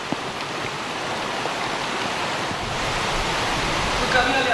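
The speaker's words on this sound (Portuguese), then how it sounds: "É ensurdecedor o barulho da queda d'água." Deafening roar of a waterfall in a rocky canyon at Chapada das Mesas, Brazil: a dense, continuous rushing wash that stays loud and steady throughout, with no clear voices.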